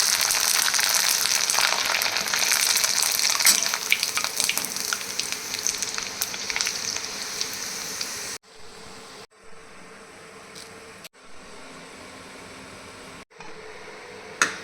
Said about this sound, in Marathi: आता एक एक करून कुरडई तळून घेते